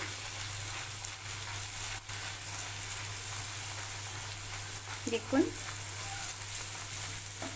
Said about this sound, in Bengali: এবারে এটাকে আমি তেলেতে ভাজবো তেলেতে দিয়ে দিলাম